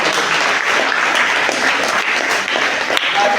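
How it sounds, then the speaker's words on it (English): An audience at a personality development and life skills training session breaks into a big round of applause, with loud, dense, sustained clapping from many hands and no pauses. "Give me a big round of applause."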